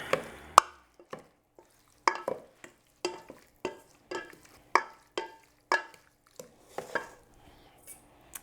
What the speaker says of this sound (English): So let's add my dressing. Give it a quick stir.